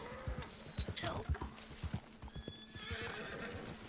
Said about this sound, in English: I started hearing neighing, and I was just like, Oh, because there's horses nearby.